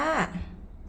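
A cat gives one short, clear meow that bends downward in pitch, close and fairly loud, followed by quiet room tone.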